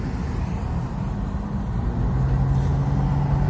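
A tuned GAZ Volga 21 on 17-inch round nickel-look wheels drives away, its low engine rumble steady and swelling slightly louder partway through, with no talk.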